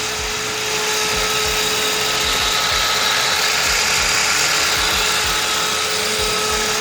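Motor driving a homemade backyard rope tow ski lift, running a little rough with a rapid, steady mechanical clatter and ratcheting pulse over a constant whine, close and continuous.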